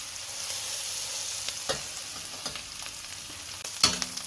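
A saddle of lamb sears in a hot pan, a steady quiet sizzle with occasional small pops and scraping stirs, no voices.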